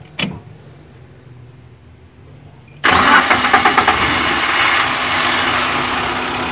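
A Suzuki Carry Futura 1.5 injection engine with newly installed spark plugs cranks briefly, then fires up loudly and settles into a rough, uneven idle, with no talking.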